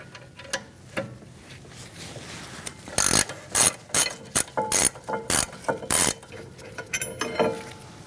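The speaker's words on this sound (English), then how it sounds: "going to take this out the rest of the way with a ratchet wrench if you have one." A ratchet wrench backs out a brake bracket bolt on a 2008-2014 Mercedes-Benz C300 rear brake, giving several quick bursts of close, sharp clicking separated by short pauses after a few quieter handling noises.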